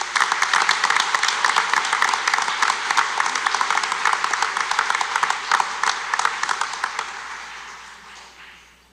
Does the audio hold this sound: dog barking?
no